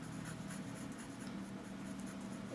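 A colored pencil in a yellowish orange shade scratches steadily across a sandpaper drawing surface, a faint, even, continuous grainy rasp with no talking.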